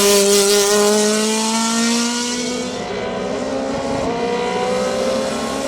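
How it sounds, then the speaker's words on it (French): A Tatus Formula Master race car at a hillclimb roars loudly and alone, its engine note climbing through the gears and then settling into a sustained high whine as it pulls away. "Marcel Sapin impose sa Tatus Formula Master en classe DE8"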